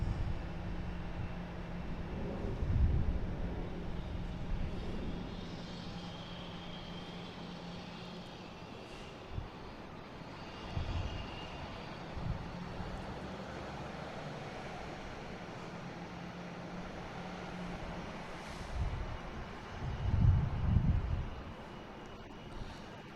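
A JetBlue airliner in a special sports-team livery arrives at Boston Logan from Orlando, its engines a distant, steady roar and rumble with wind buffeting the microphone, swelling gently over about twenty seconds, no speech.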